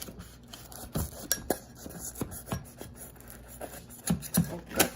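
A knife cuts through a crispy chicken fajita crunchwrap, giving a series of close crunchy crackles and scraping taps on a plate or board. The sounds come in short bursts, fairly quiet, with no talking.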